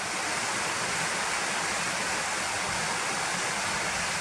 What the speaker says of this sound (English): there's a couple of little waterfalls running away there